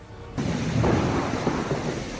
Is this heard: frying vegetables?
no